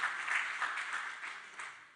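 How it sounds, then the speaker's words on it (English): Applause from an audience at a livestreamed Namibian biomass industry event, steady dense clapping sustained throughout at moderate volume, with no talk over it. "Please give her a warm round of applause"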